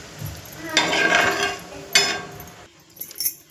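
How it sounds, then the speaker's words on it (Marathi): Peanut curry being stirred in a cooking pot, giving clattering, scraping bursts of utensil against metal, with two louder stirring passes and lighter clinks near the end. "मिक्स करूया आणि छान त्याला उकळी येऊ देऊया"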